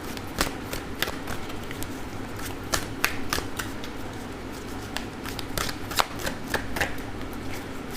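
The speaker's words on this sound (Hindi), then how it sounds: "जब तक मैं शफल कर रही हूँ" Tarot cards shuffled by hand close up, a steady run of crisp flicking riffles and soft slaps repeating evenly over a faint background hum.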